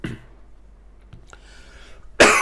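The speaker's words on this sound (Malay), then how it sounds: "maaf ya, cikgu batuk" Teacher coughs, a short throaty burst at the start, then a quiet stretch with small clicks, ending with a loud, sharp second cough or throat-clearing up close.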